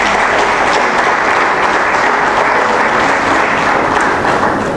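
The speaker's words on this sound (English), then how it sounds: "let's welcome them with a loud round of applause," Loud, sustained applause from an audience at an International Women's Day celebration, steady dense clapping filling the whole stretch with no speech.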